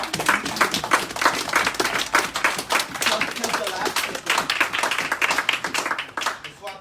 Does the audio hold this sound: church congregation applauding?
yes